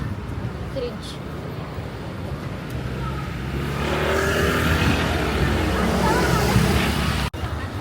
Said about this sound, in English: we will take tuk-tuk right now. This is tuk-tuk.